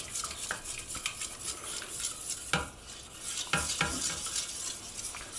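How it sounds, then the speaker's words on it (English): Pancake batter whisked in a bowl for a savoury vegetarian pancake bake makes close, continuous rhythmic swishing with intermittent sharp clinks of the whisk against the bowl. "Keep whisking it."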